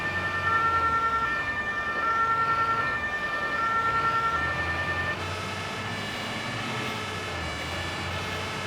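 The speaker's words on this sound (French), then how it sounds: "Et ils ont les bons vieux gyros pneumatiques" Pneumatic sirens on fire brigade emergency vehicles wail steadily in a rising and falling pattern, loud and fairly close, over rumbling road traffic, with a change in tone partway through as the vehicles move.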